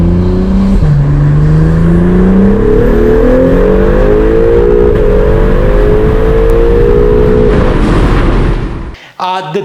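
Acura NSX first-generation engine fitted with downpipes, revving loud and close with rising and falling pitch sweeps over several seconds, then cutting off abruptly near the end.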